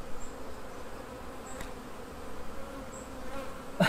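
Honeybees buzz steadily in an open hive during a colony split inspection, a dense close drone with a few louder passing bees and no talk.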